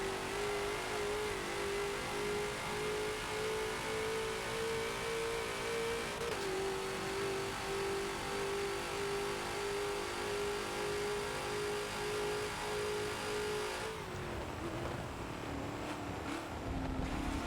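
Ford GT40 racing around Spa in Forza roars continuously at close range, holding a high revving pitch before dropping sharply as it shifts, then climbing again with wind rush.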